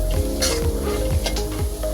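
Minced keema sizzles in a pan with garam masala, cumin and black pepper while being stirred, loud close frying crackle punctuated by rhythmic scraping strokes of the spoon against the pan.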